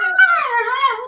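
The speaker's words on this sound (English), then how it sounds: "Nope, that's my dog. When she plays very aggressively, she sounds like a cat." A small pet dog playing rough gives a high, wavering, cat-like whine, one continuous sustained call close by with no talk.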